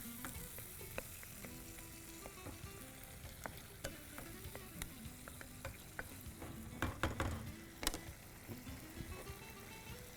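Onions and tomatoes frying for Tamil-style thokku, a steady close sizzle with scattered clicks and scrapes of a spoon stirring through the pan, busier toward the end.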